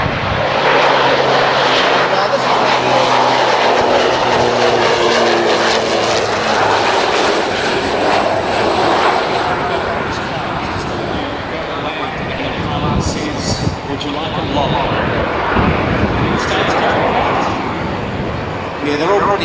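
Twin turboprop engines of an Air New Zealand Beech 1900D drone loudly and steadily throughout, a dense continuous roar heard from inside the cabin.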